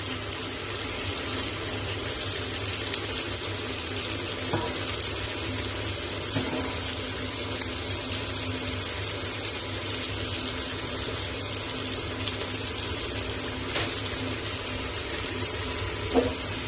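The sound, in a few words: water being poured into a cooking pot for chicken haleem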